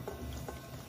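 A utensil stirs a beef stock sauce in a saucepan, soft scraping swirls with a low background sizzle and hum, brief and close.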